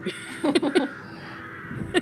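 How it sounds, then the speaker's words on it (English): A murder of crows cawing harshly, several loud bursts in quick succession and then one more after a pause, close and clear over faint background noise. "Yeah, I was wondering why these birds are just screaming."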